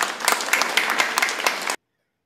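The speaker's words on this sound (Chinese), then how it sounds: "所以我们是不是在热烈的掌声感谢" An audience claps warmly in thanks to a chairwoman at the opening ceremony of a children's learning centre in Xiulin Township, a dense burst of many hands that stops abruptly after under two seconds.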